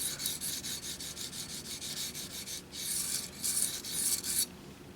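A knife blade scrapes rhythmically across an oiled Smith's sharpening stone, a quick series of close, gritty rasping strokes with brief pauses, ending in a few longer, harder passes.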